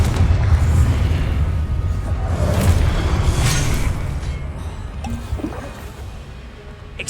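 Confringo blasting spell explosion in Hogwarts Legacy, a heavy booming blast that rolls into a sustained low rumble and slowly fades, with smaller crackles near the end.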